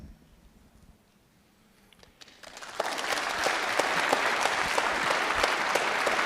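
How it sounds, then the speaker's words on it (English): An audience at a university lecture event bursts into applause after a quiet pause, the dense clapping swelling quickly and holding strong and steady to the end. "You didn't have to clap for that one."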